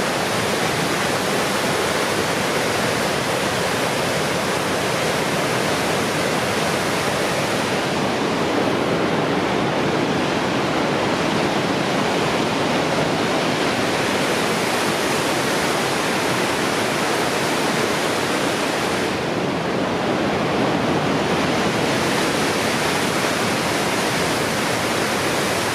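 A waterfall at the Grand Canyon of the Yellowstone, heard from a close viewpoint on the North Rim trail, makes a loud, continuous roar of rushing water that holds steady throughout.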